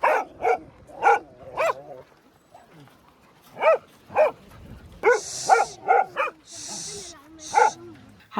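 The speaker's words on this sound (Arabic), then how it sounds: "فجأة على غفلة مشيوا معنا كلاب كتيرة" Several dogs on a walk by the sea bark and yip in short bursts, some near and some farther off, with pauses between barks and a few whimpers.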